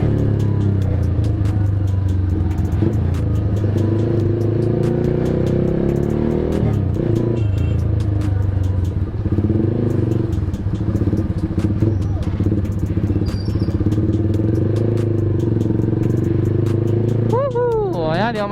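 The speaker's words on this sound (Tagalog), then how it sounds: "Hindi ako masyado nagsasalita para marinig nyo yung pipe" A Kawasaki Z200 with an SC Project exhaust rumbles deep and loud at close range, idling with steady blips of revving throughout, and a brief voice near the end.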